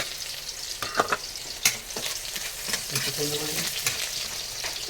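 Onion and garlic fry in a pan for Filipino pancit miki bihon, crackling steadily while a spatula scrapes and taps close by in brisk strokes.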